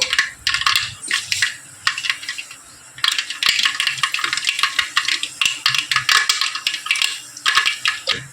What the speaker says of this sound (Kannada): ಇವಾಗ ಜೀರಿಗೆ ಸಾಸಿವೆ ಹಾಕೊಂಡು ಬಿಡ್ತೀನಿ ನೋಡಿ ಚಟಪಟ ಅಂತ ಇದೆ